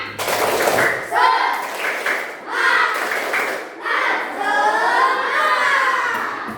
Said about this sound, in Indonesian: Ibu minta tepuk semangatnya.